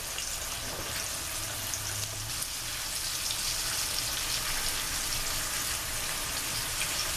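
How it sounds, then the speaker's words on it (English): Steak pieces frying in a crowded pan for smothered steak and onions, a steady close sizzle and crackle that runs unbroken with no voices. "you're gonna fry them until they're nice and brown"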